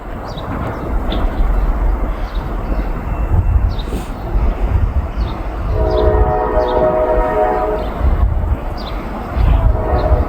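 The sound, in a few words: Norfolk Southern 143 train approaching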